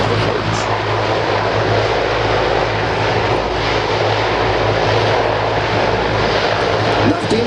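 Loud, steady roar of a C-160 Transall propeller transport aircraft close by on landing approach during a military evacuation exercise, engine drone with a low hum running throughout.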